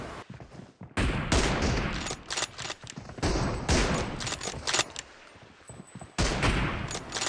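Rapid gunfire from the BGMI mobile battle game, with M24 sniper shots among loud, dense bursts that run almost continuously, broken by a few short gaps, with no talking.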